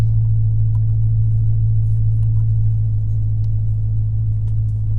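2010 Dodge Challenger engine idling after start, a steady loud low rumble with a constant drone and no voices.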